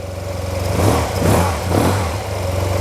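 A Yamaha TMAX scooter engine running after a fuel pump repair, a close, steady idle with a couple of gentle throttle swells and no talk.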